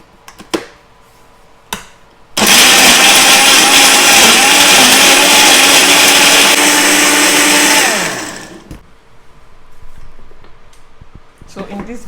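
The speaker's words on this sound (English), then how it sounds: "I'm going to blend it now." Two quiet knocks, then a blender blending pepper soup spice, onions and hot peppers roars on loudly for about five seconds before winding down, followed by faint handling clatter.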